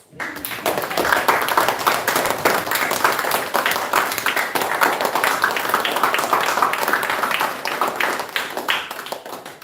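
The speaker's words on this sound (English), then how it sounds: "A bit more applause, please." Applause from a group of people at an awards gathering on Lesvos Island, Greece, a steady run of many hands clapping at moderate loudness for nearly ten seconds with no voices over it.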